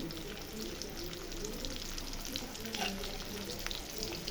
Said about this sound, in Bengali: এই যে কড়াইতে পেঁয়াজ দিয়ে দিছি তরকারি রান্না করার জন্য